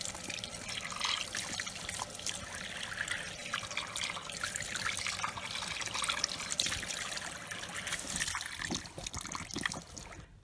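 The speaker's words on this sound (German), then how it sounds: "Mittels fließend heißem Wasser können dann die gelösten Verschmutzungen einfach ausgespült werden." Hot water runs steadily from a tap, rinsing loosened dirt from a scooter variator housing, a continuous close splashing trickle that stays even throughout before dropping slightly near the end.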